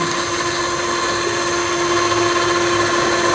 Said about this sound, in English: we have the switch right here, which operates the electric winch